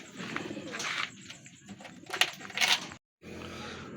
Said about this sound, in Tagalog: Yung mga ibon, oh.